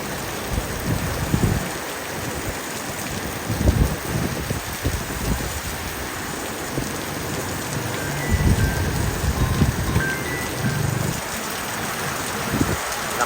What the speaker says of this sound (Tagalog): Iba kapag kabagyo talagang may kasamang hangin, hindi katulad ng basta ulan laang.